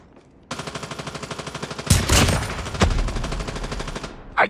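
Rapid automatic gunfire in the mobile shooter Call of Duty Mobile, a steady burst of evenly spaced shots followed by heavier impacts and explosive bangs, loud and close, with no talking.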